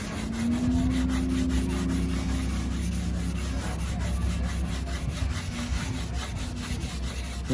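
Rhythmic rubbing strokes of a wet sanding block against the fiberglass and epoxy resin of a wake surf board, steady and close, with a low background hum.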